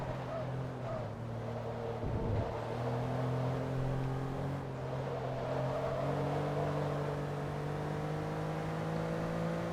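Porsche 911 GT2 engine in Forza Motorsport holds a steady high-revving drone, with one brief dip around the two-second mark as gears change, under a faint voice.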